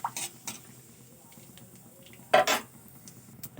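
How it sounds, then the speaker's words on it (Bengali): Whole cumin and dried red chillies tempering in a pan for spinach curry, stirred with a spoon that clinks and scrapes against the metal in a few sharp knocks over a quiet low background. "তো ফোড়নটা আমি একটু নাড়াচাড়া করে নেব"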